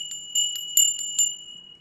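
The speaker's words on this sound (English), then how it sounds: "Tinkly bells for all 5 of you." Tinkly bells ring as a sound effect on a live knife show, six bright chimes in a quick uneven run, clear and close with no talk over them.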